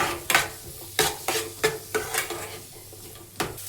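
Chopped onions are stir-fried in a pan, with a soft sizzle under a series of sharp, rhythmic scraping and clanking strokes of a utensil against the metal, heard up close.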